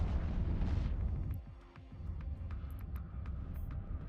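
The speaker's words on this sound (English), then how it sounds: "There's a wasted explosion." A deep booming explosion from the space game EVE Online rumbles loudly at the start and fades, followed by lower game hum and scattered faint clicks and beeps.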